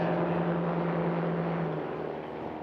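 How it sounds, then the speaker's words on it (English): A STOL drag-race aircraft powered by a Yamaha Sidewinder 998 turbo snowmobile engine holds a loud, steady droning roar with a strong low hum, easing slightly toward the end. "also running the Yamaha Sidewinder 998 turbo snowmobile engine. Listen to that."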